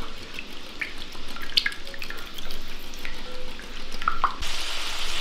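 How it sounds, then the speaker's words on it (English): Eggs and heavy cream whisked together in a bowl for a keto bacon, egg and cheese casserole, giving a steady wet sloshing with light clinks of the whisk against the bowl, ending in a sharp noisy burst. "I'm gonna whisk this together with the eggs."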